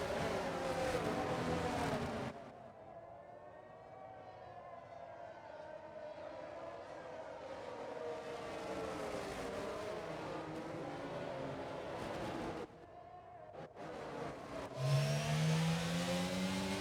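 Race cars roll through a formation lap in a racing video game, a steady mid-pitched engine drone that swells and dips for several seconds, cuts briefly, then rises again.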